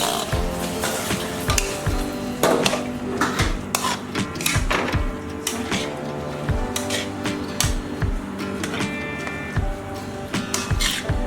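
Soaked, washed split moong dal tipped into a hot frying pan after other ingredients were fried, giving a steady rubbing, rasping sizzle with scattered clatters and scrapes, close and fairly loud, with no talk.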